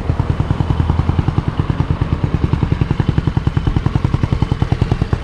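A Venom X22 GT 250cc automatic motorcycle running while being ridden, a loud, close, rapid pulsing engine beat that holds a steady rhythm throughout, with no talking.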